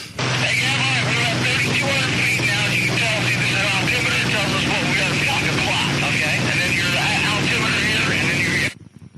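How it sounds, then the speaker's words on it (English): Loud, steady engine drone from inside a small plane, constant throughout with broadband roar, then cutting off abruptly at the end; faint voices mingle beneath. "it's a very loud airplane"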